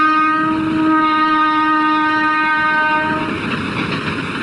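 A train rolls past on a railway line beside the tomb of Nur Jahan, its loud sustained horn blaring over the steady rumble of the wagons close by.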